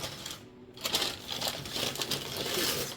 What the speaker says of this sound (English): Get this paper to wrap that